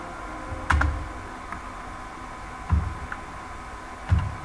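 Keys clacking on a computer keyboard during a Python programming lesson, three distinct clusters of strokes spaced about a second or two apart over a low room hum, close and moderately loud.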